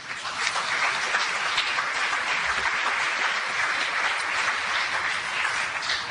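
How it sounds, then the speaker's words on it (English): Audience at a fair's football roundtable giving a sustained round of applause, dense and even clapping that fills the room for several seconds without talk. "Let's give them a round of applause"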